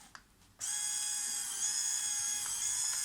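Paper fed into a 1986 HP 82240A portable thermal printer sets off a steady whirring, ratcheting motor drive after a brief quiet start, close and continuous for a few seconds.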